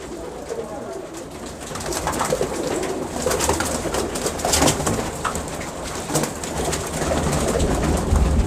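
Pigeons cooing steadily in a loft, a dense, continuous murmur of coos with occasional wing rustles, fairly close and moderately loud throughout.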